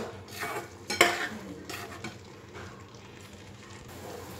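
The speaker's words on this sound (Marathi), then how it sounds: "आणि मंद आचेवरती हे छान होऊ देऊ. सतत एकत्र करत राहायचं." A spoon scrapes and stirs moong dal halwa in a pan over low heat, with soft sizzling, a sharp clink near the start and quieter scraping after.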